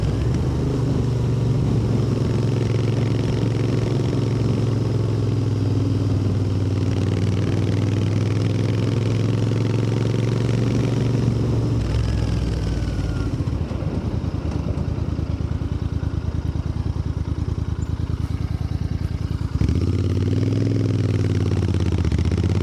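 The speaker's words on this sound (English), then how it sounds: "You have a bit of that engine noise or exhaust noise." Royal Enfield Interceptor 650 motorcycle engine and exhaust while riding, a steady mid-pitched drone that rises and falls with throttle over about twenty seconds, close and continuous, with wind noise and no talk.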